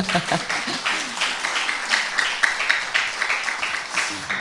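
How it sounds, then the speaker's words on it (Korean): An audience at a poetry talk with poet Moon Chung-hee breaks into crisp, scattered clapping. The clapping is moderately loud and holds steady for several seconds without fading. "여러분 동의하시면 박수 한번 주십시오."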